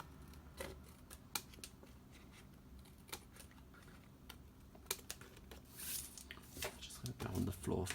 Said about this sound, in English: We're going to obviously cut this down by turning it around.